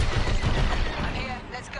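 Enemy blaster fire in the Star Wars: Squadrons space combat game, a dense, continuous barrage of crackling shots and rumbling impacts, loud and close throughout with a voice talking underneath.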